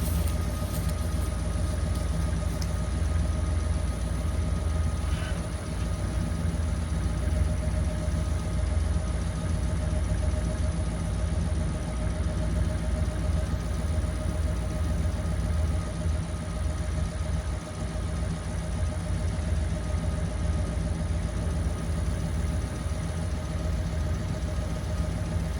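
An old abandoned Ford F100 pickup truck idles smoothly and steadily for the whole stretch, a close, even low rumble with no talking over it.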